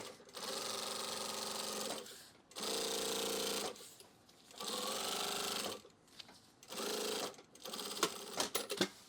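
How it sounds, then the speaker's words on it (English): An industrial sewing machine stitching heavy duffle bag fabric runs in four loud, steady bursts of rapid mechanical whirring separated by short pauses, ending in a few scattered clicks and clunks. "sewing this kind of fabric on the same machine that I'm doing everything else is a little unorthodox"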